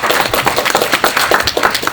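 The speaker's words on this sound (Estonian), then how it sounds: "Teeme ühe aplausi." An audience at a club lecture by an ethnologist gives a round of applause: dense, steady clapping from a small crowd, close and loud, with no voices.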